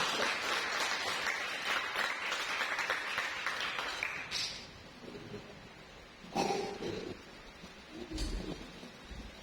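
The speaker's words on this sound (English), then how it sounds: "Applause for your first performance" Audience applause at an English-language finalist performance, loud at first and then fading out within about four seconds, followed by quieter room noise and a couple of brief bumps.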